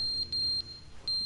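A high electronic beep sounds from a device in The Stanley Parable Ultra Deluxe, in short pulses with gaps, then a longer tone, clear and fairly close with no talk.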